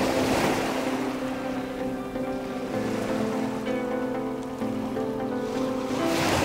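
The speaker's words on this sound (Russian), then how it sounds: "под шум прибоя подумать о смысле жизни" Storm surf on a sandy beach rushes and washes steadily, swelling louder at the start and end, with a steady tonal drone running underneath.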